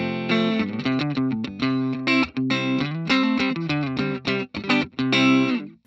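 An electric guitar with a bare amp-style tone and no reverb or effects plays through an XTONE iOS audio interface, picking a run of clean, bright single notes and short chords in an uneven rhythm, close and clear and with no voices.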